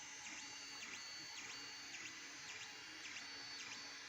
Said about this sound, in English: Here's a quick little 3D printer porn for you guys.